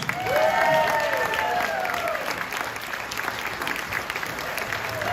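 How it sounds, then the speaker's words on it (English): Audience applause with some cheering greets a female comedian taking the stage at a comedy club, a dense, loud burst of clapping that holds steady throughout, with a bright whistle-like tone gliding across it early on. "So now let's give her a great round of applause to welcome our own funny lady, Joey Sims."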